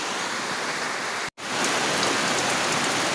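Heavy evening rain falls during a flood, a dense, steady hiss of downpour on surfaces that cuts out for an instant and then resumes at full strength, with no voices.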